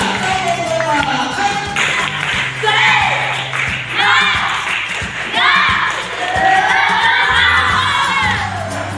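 Students in a classroom clap a spirited cheer together during a lesson, a loud, continuous mix of clapping, shouting and cheering voices filling the room.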